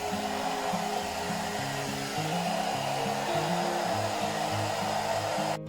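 An Agaro hair dryer brush blows hot air through hair with a loud, continuous whooshing roar and a low droning hum that wavers slightly, running steadily until it cuts off abruptly at the end.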